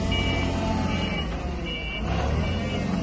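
A Mitsubishi forklift reverses with steady electronic backup beeps sounding over its engine idle, close and continuous.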